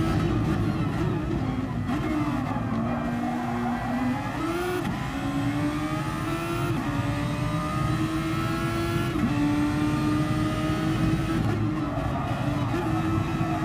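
Loud, sustained race-car engine noise on track, revs rising steadily through several gear changes as cars accelerate, with a faint voice under the roar.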